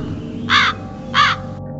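Two loud crow caws, evenly spaced about half a second apart, stand out over a low steady background hum with no voices.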